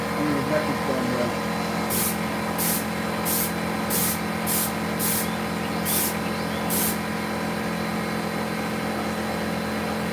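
Spray paint hisses onto a Michael Myers mask in about eight short, evenly spaced bursts, each a sharp airy spurt close by, over a steady low background hum.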